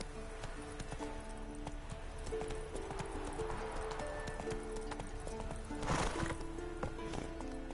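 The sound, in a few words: horse Roach's hooves from a video game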